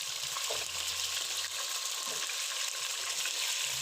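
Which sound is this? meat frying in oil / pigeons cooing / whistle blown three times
meat frying in oil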